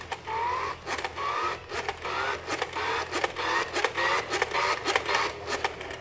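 A Nerf Buzzsaw blaster's manually cranked gear motor spinning up its flywheel, a close, continuous ratcheting whir with rising pitch and rhythmic pulsing clicks.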